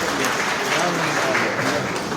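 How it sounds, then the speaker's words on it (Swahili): Audience clapping at a Friends Church conference at Senende High, steady dense applause filling the whole moment, with voices mixed in underneath. "Makofi yetu."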